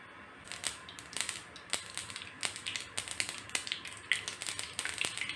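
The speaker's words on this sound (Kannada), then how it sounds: "ಸಾಸಿವೆ ಸಿಡಿತಿದೆ" Mustard seeds pop and crackle in hot oil, sharp irregular snaps over a faint steady sizzle, fairly quiet and close.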